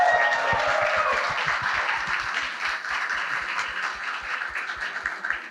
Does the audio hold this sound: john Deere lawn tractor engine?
no